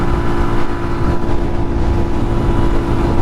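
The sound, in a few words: street legal dirt bike riding down the road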